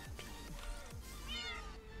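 A Minecraft cat meows several times in short succession, fairly close and clear, with no talking over it.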